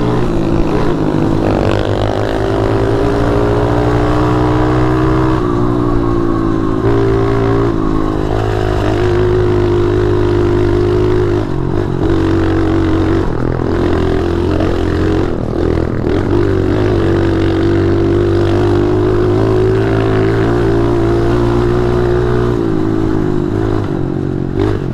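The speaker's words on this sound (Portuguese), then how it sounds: "Que moto de merda, começou a se falhar." A loud motorcycle engine misfiring from a faulty carburetor on a trail, droning and sputtering with uneven surges in pitch, close by and continuous throughout.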